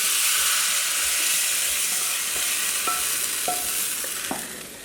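Hot oil poured over Turkish yayla yogurt soup with mint, giving a steady broad sizzle and hiss that starts strong and slowly fades, with a few faint clicks underneath and no talking.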